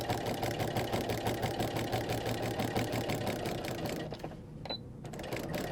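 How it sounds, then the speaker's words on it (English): A sewing machine back stitches a quilted carry-on tote made from a panel, running in a steady, fast mechanical rhythm for about four seconds before stopping briefly, then humming again. "I'm going to back stitch all the way up."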